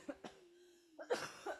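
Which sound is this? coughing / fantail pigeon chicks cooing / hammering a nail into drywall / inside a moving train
coughing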